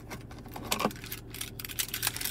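Keys for a black 2021 Ford Ranger Wildtrak X jangle and clink close to the mic inside the cab, producing a continuous run of bright metallic rattles with a few louder jingles and no talking.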